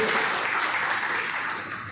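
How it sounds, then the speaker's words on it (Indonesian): Church congregation applauding in praise, a dense steady wash of many hands heard at moderate loudness from across the hall, slowly fading toward the end, with no speech over it. "tepuk tangan dulu buat Tuhan"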